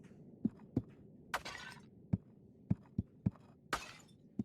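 Pots breaking in the SpellSided game demo, a string of sharp cracking hits spaced unevenly, with two brighter shattering bursts, fairly close and alone without voices.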